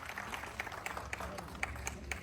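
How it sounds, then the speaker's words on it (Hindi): An audience gathered for a farewell event at Kishtwar applauds steadily with dense, even clapping at moderate distance. A crowd murmur sits underneath, and a few sharper claps stand out. "आप जोरदार तालियां बजाएं डीसी सर के लिए"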